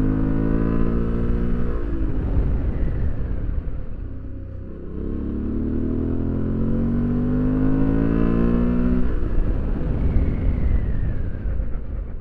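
A motorcycle on Tusk 2Track knobby adventure tires rides loud and close, engine note sweeping down as it brakes hard to an emergency stop with ABS working, then climbing again as it accelerates away.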